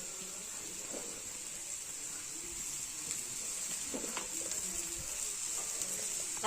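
Chopped foraged greens hit hot oil seasoned with red chili powder and homemade masala, giving a steady close hiss and sizzle with small pops and stirring clicks, no voices.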